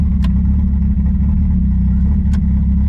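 A Renault Mégane RS drives on the small Magny-Cours circuit, its engine a loud, steady low drone heard from inside the car, with a couple of brief clicks or rattles.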